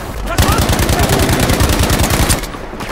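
Loud, close automatic gunfire in Battlefield V, a steady rapid stream of shots running almost the entire time with no break.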